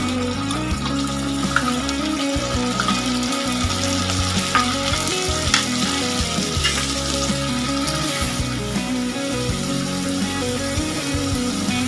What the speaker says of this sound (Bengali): পেঁয়াজ, রসুন, আদা একসঙ্গে বেটে রেখেছি, ওটা দিয়ে দিলাম।